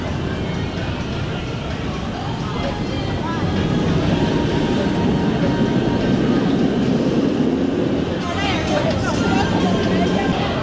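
The Human roller coaster at Universal Studios Singapore rumbles past on its track, a continuous rolling mechanical roar that swells midway, with people talking over it.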